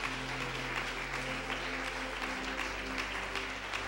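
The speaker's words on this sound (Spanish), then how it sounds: "¿Cuántos aplauden su nombre?" Congregation applause at a Spanish-language Yom Kippur church service, steady dense clapping at low level over a sustained hum, continuing evenly throughout with no clear break.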